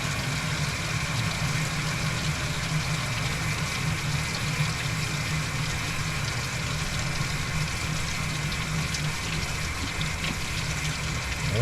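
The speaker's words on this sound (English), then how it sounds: "now we got clear water coming out" Clear water gushes steadily from the radiator hose of a running Toyota engine during a flush, a continuous splashing stream over the low hum of the idling motor.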